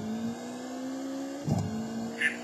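Rally car engine in Colin McRae Rally 2.0, held at a steady high drone while racing flat out uphill on a UK stage, with a brief bump or thud partway through and no talk over it.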